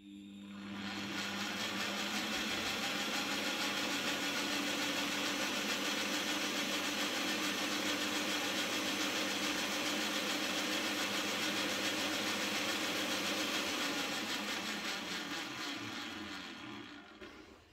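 A Graphite 58G789 1800W double paddle mixer, for concrete, adhesive, paint and plaster, runs in first gear at minimum speed, a steady loud motor drone with whirring paddles that holds evenly before winding down at the end.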